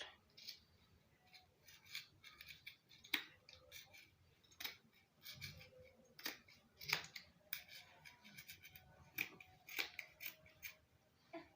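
Scissors snip through fabric while a kaftan abaya is cut out, a quiet series of irregular crisp cuts and clicks at close range with no one talking.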